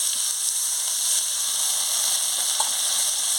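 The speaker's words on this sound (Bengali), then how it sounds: "সামান্য একটু জল দিয়ে মশলাটাকে ভালো করে ভেজে নিচ্ছি।" Spice paste for a crab curry fries with a splash of water, giving an even, close hiss of sizzling and steam that never lets up, with a couple of faint stirring taps.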